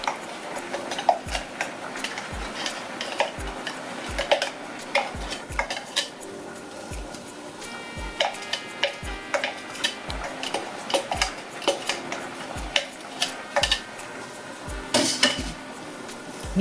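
Metal clinks, scrapes and stirring clatter as onions go into a frying pan, with faint sizzling underneath, steady and close by.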